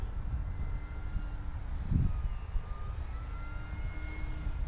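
An FMS Edge 540 radio-controlled aerobatic plane flies overhead with a thin, droning motor whine that holds steady at a moderate distance over low background rumble, with no talking.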